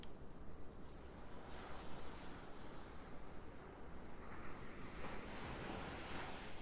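Steady ocean surf washing ashore, a continuous broad roar of waves with gentle swells, faint and even, no voices present.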